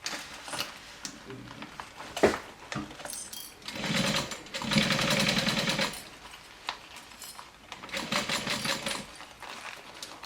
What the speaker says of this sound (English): I'll stitch this down all around with 1/4 inch seam allowance.